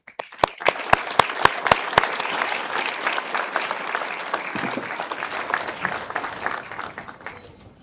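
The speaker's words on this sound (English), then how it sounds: "I'd like to give a round of applause to all the TBHC staff and physicians who helped all of our" A crowd at a hospital graduation ceremony applauds the staff and physicians: a few sharp, distinct claps open, then swell into a sustained wash of applause that slowly thins out toward the end.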